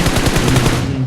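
Automatic gunfire from the PUBG battle royale video game, played at night, rattles in a dense, loud, continuous burst of rapid shots for about a second.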